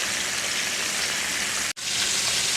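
Southern fried chicken pieces sizzle and crackle steadily in hot oil, loud and continuous, with a brief cut near the end.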